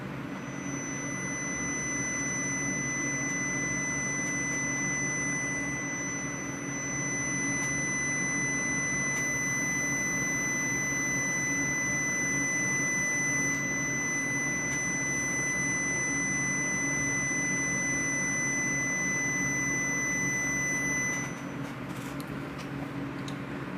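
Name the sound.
2004 hertz scalar frequency tone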